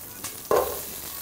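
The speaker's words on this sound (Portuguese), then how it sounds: "vou começar aqui colocando um fiozinho de azeite aqui na minha panela que já está quente. Vou adicionar agora as minhas verduras" Vegetables hit hot olive oil in a pan and burst into a sharp sizzle with a faint clatter as they land, the frying hiss settling into a steady crackle, no talking.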